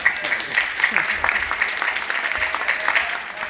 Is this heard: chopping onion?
no